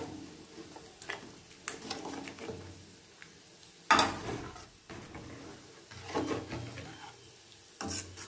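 Dal tadka bubbling in a pot while a spoon stirs and scrapes through it, with soft intermittent scraping, one sharper clatter of utensil against metal midway, and steady low cooking noise throughout.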